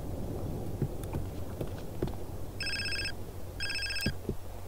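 Two short bursts of an electronic mobile phone ringtone in GTA San Andreas, each about half a second, over a low ambient rumble and scattered in-game footsteps and clicks.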